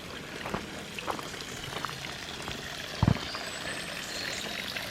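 Water from a big pipe by a river pours in a small waterfall, a soft continuous splashing hiss with faint drips and one brief thump.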